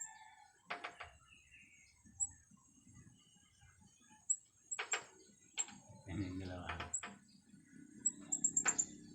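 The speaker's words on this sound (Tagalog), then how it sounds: "Pilit niyang tinutuka yung mukha niya sa salamin." Small bird taps and pecks sharply at its reflection in a mirror in irregular bursts, with a quick rapid flurry near the end; soft chirps and faint voices nearby.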